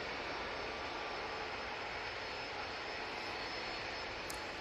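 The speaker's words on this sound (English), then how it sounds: "Aer Lingus is a big plane. A330-300, as I say, coming in from JFK." An Aer Lingus Airbus A330-300 jet airliner arriving from JFK at Manchester Airport, heard as a continuous, fairly faint broadband engine roar from a distance with no talk.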